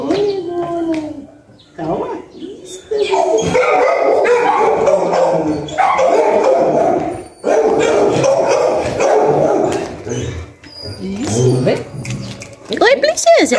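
A female dog barking and yipping, with whimpering, around people handling her newborn puppies outdoors; short barks come in bursts, mixed in with loud, overlapping speech throughout.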